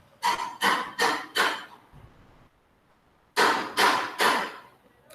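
A hammer pounds close by in two bursts, four quick strikes, a short pause with a low thud, then three more blows, loud and without speech.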